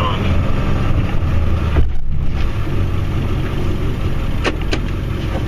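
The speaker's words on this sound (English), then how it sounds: "Good news is, truck's running good." A Ford Super Duty pickup truck's engine runs steadily during snowplowing, a loud continuous rumble with heavy low-end noise and a couple of brief knocks near the end.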